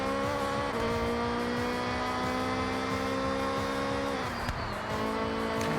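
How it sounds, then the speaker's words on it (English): A Honda Beat time attack car with an engine swap races in the Forza Horizon video game, its engine screaming at high revs with steady tonal whine and a brief gear shift near the end, loud and continuous. "Now that's a time attack car ripping it through here."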